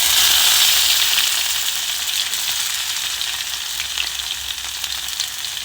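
Chopped onions sizzle and crackle in hot oil for a potato and spinach dish, a loud hiss at first that settles slightly, with faint stirring pops throughout.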